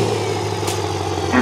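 A rusty beater car's engine idles in the BeamNG driving game, a steady low mechanical hum with a brief brighter rise near the end, heard alone.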